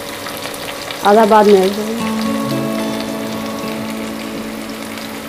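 Minced garlic and chopped onion sizzle softly in a pressure cooker, a steady fry heard close under a brief spoken remark.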